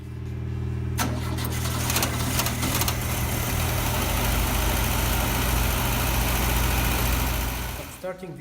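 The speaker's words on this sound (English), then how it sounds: "Starting the engine, it's one thing, but running it smoothly is another thing." An air-cooled VW camper engine cranks, catches and settles into a loud, steady idle close by, running evenly throughout and cutting off abruptly at the end.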